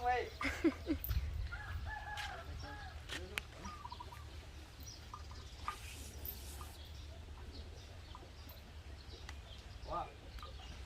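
Chickens cluck faintly amid steady outdoor rumble and distant voices, with a few brief calls near the start.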